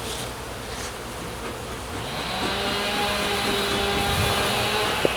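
Honey bees buzz around a hive board during a spring inspection, a steady close hum that grows slightly louder midway, with a faint higher whine of a passing bee and one sharp tap near the end.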